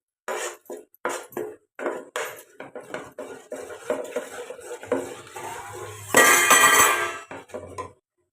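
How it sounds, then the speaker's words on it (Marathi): Tomato puree being stirred and sautéed in a pan for pav bhaji, with a utensil clinking and scraping against the cookware in irregular strokes, then a louder sizzling burst near the end, close and fairly clear. "आता यात टॅमॅटोची प्युरी टाकायची आपल्याला. ती पण चांगली परतवून घ्यायची आहे."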